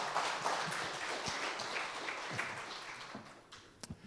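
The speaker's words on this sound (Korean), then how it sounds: "여러분 박수 한번 쳐주세요." A church congregation applauds a family during a sermon, a moderate, steady patter of many hands that thins out toward the end with a few last isolated claps.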